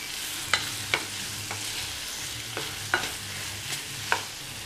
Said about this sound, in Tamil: சேர்த்ததுக்கப்புறம் இந்த உருளைக்கிழங்கு வந்து இந்த மசாலாவோடு நல்லா பிரட்டி விட்டுட்டு